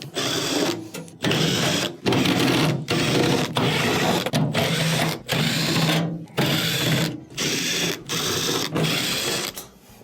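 A power driver takes 1/4-inch screws out of a refrigerator's rear bottom cover, whirring loudly and close in a regular series of roughly one-second bursts separated by brief gaps.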